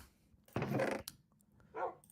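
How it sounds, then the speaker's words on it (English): A dog in the Minecraft video game gives a couple of short barks, one burst near the middle and a softer second one at the end, with quiet game ambience between. "Can I give my dog another bone?"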